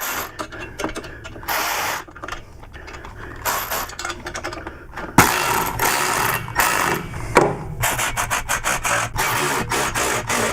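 A ratchet wrench clicks in quick bursts while tightening exhaust header bolts on a Harley-Davidson Touring motorcycle, the rapid pawl ratcheting close up, starting and stopping as the work shifts back and forth between bolts.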